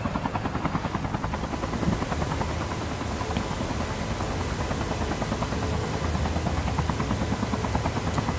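Steady, loud rotor thump and turbine whine of a helicopter in the mobile shooter game Call of Duty Mobile, a continuous close drone throughout.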